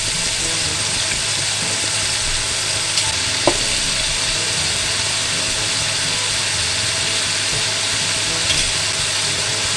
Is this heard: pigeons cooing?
no